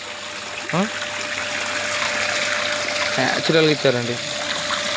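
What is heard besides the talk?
water flowing during temple abhishekam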